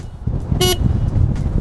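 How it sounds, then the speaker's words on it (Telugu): Horn on a Hero Xtreme 125R motorcycle gives one short, clear toot of roughly a sixth of a second, loud and close over a steady low background rumble. "డీసెంట్ హార్న్ ప్రొవైడ్ చేస్తున్నారు."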